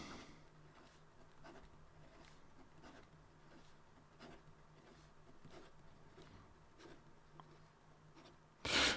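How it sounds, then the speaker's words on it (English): A Dareworks InfiniGrav fountain pen scratching quickly across paper in fast writing, soft rhythmic strokes at low level, ending in a sudden loud rustle. "And then in regard to some fast writing"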